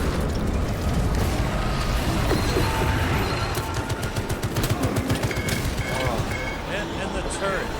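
A Tech Marine's turret firing in Warhammer 40k: Space Marine 2, rapid gunfire and booming blasts amid dense battle noise, with someone talking over the action.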